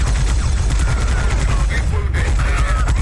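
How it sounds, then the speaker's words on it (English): Rapid machine gun fire from the Warhammer 40k Fire Warrior video game rattles continuously in loud, close bursts, with a voice faintly audible underneath. "one of the most powerful sounding weapons in the game uses a stock machine gun sound"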